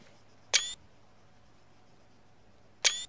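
Two crisp shutter clicks from a virtual camera in the military game ArmA 3, spaced about two seconds apart over a quiet background.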